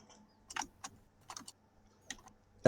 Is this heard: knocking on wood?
no